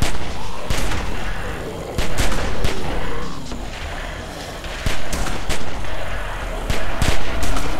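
Repeated gunshots during a fight in The Walking Dead Telltale video game, sharp cracks and bursts scattered irregularly over a continuous rumble of battle noise.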